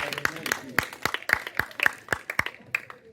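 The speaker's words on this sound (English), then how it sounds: "Clap, clap, clap." Sparse, rhythmic hand clapping from a small group at a school debate on whether a female president is more desirable in nation building, roughly four claps a second, close and fairly faint, with a voice faintly audible underneath.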